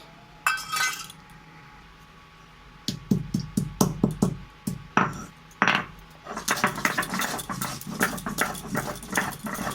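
Cardamom, cinnamon and clove for garam masala are pounded and ground on a washed sil stone, making a close series of sharp stone-on-stone knocks and scraping grinds in irregular bursts with no talking.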